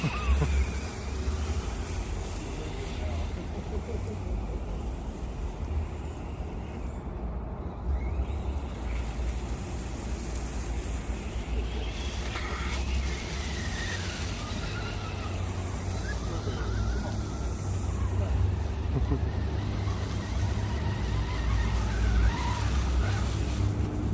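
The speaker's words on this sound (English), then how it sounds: "It's an RC car." An Arrma FireTeam tactical assault RC vehicle running in a park, its electric motor whining steadily with rising and falling pitch sweeps as it speeds around, tires scrabbling on the ground, heard continuously at moderate distance without talk.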